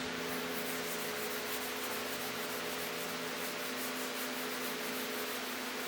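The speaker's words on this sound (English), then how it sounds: "center line with the steel wool and Barkeeper's Friend, and let's see what happens" Steel wool with Bar Keepers Friend scrubs across a pan in a steady, fast, gritty hiss that keeps going without a break, close up and fairly loud.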